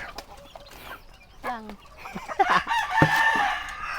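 A rooster crows clearly nearby and a chicken clucks, with short bursts that rise toward the end, while people talk around the birds.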